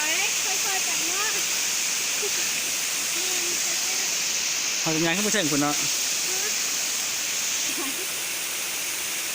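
Tad Kon waterfall in Laos roars as a loud, steady rush of falling water, with a brief voice speaking over it midway.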